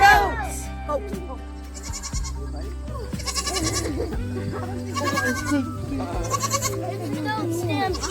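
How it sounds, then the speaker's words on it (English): Goats bleat repeatedly on a goat farm in Port Hope, Ontario, close and loud, with several overlapping animal calls and people's voices mixed in. "Release the goats!"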